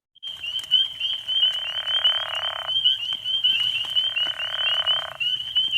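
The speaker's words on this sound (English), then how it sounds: "they sound somewhat to me like somebody's snoring a little bit. So a steady croak" A frog gives a steady, snoring-like croak, a continuous rasping trill that runs in two long bursts with a short break between, close and fairly loud over faint background chatter.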